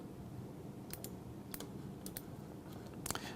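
Quiet, crisp clicks of a computer mouse or keys sound in small clusters over faint room hiss, a handful of separate taps spread across a few seconds.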